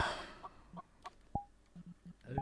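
A player-controlled chicken in a video game clucks in short, separate bursts, with several quick clucks spaced out over a couple of seconds, moderately close against a quiet background, and no one talking.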